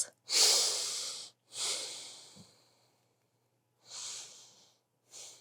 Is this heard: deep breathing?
yes